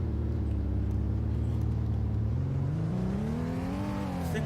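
A 2016 Honda Pilot SUV accelerates from inside the cabin, its engine drone climbing steadily in pitch with a smooth, continuous rise and slight dip, loud and up close.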